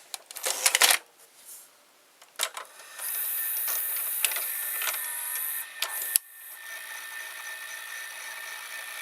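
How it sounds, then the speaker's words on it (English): A faulty early-1990s Panasonic-branded VCR with a Daewoo mechanism, a worn idler and a failing capstan motor loads a tape and chews it. Clicks and clunks come first, then a sustained whirring mechanical grind with a high whine over it. "So sometimes when I load the tape, it does that. Like you see now it ate the tape"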